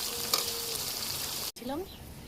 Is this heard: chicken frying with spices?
yes